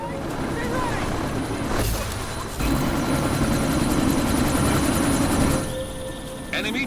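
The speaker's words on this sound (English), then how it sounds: "That chopper's about to take off!" A helicopter taking off in the video game Deus Ex: Mankind Divided, its rotor roaring loud and close with a steady heavy thrum that swells midway and runs throughout.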